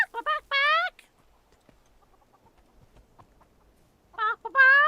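Chickens in Guild Wars 2 let out loud clucks and squawks in two short bursts, one at the start and one near the end, with a quiet stretch of faint game sounds between them.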